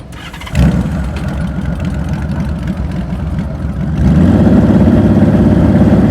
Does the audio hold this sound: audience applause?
no